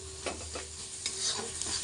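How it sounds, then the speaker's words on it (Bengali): Spice masala frying in a pan for a cabbage curry, giving a soft continuous sizzle broken by a few quick, evenly spaced stirring scrapes. "আমার বেশ মশলাটা বেশ ভাজা ভাজা হয়ে গেছে"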